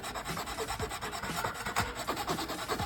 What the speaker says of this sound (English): You hear when I'm clacking on this string? Yeah, I'm grinding on it.